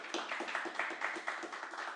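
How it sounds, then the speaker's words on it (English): Applause for the panelists at a local officials and organizers panel event, a short burst of steady, moderately close hand clapping from the audience with no talk over it. "round of applause for our panelists"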